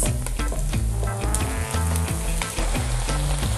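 Eggplant pieces dropped into hot oil with onion and garlic for caponata, a loud close sizzle and crackle with stirring scrapes and clattering, no talking.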